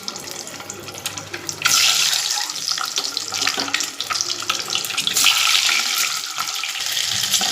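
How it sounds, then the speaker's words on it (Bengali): Salt-and-turmeric-coated eggs dropped into hot mustard oil, giving a loud, continuous hiss and sizzle that swells sharply after a quieter start. "নুন হলুদ মাখিয়ে রাখা ডিমগুলো দিয়ে দিচ্ছি।"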